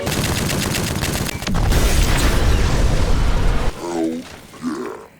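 A grenade goes off indoors in Fallout 1, a loud broadband blast with a sustained rumbling roar that cuts off abruptly, followed by brief grunting voices.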